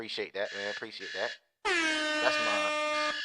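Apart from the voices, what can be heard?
alarm going off, air horn sound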